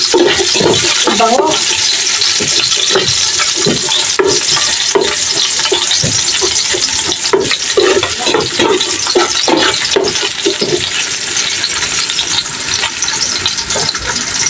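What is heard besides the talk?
onion sautéing in pan for salmon sinigang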